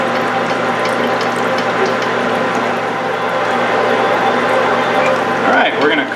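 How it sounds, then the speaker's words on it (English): A roughing reamer turned by hand to cut the chamber while rebarreling a Yugoslav M48A Mauser in .308, giving a continuous close grinding, ratcheting churn with steady loudness and no break. "this is just the roughing reamer"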